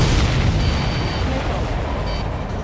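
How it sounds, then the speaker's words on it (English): Explosion of an enemy supply ship in the aerial combat video game Ace Combat 7: a loud, continuous deep rumbling roar that fills the whole stretch and slowly eases off, with no distinct onset. "Did you see that explosion? Looks like that's one of them down."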